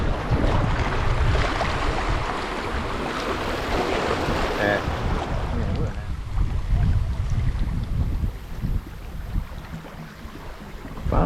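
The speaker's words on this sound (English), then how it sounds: "So the wind is shifting, going in circles." Gusty wind sweeps over the Illinois River in northeastern Oklahoma during a float trip, a loud, continuous rushing and buffeting that eases slightly partway through, with no clear talking.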